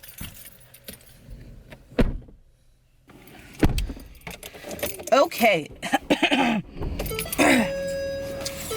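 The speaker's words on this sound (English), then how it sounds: "I'm about to turn the car on." A car is started on a cold, snowy day. Keys jangle close by and a voice speaks briefly, then the engine cranks and settles into a steady idle hum near the end.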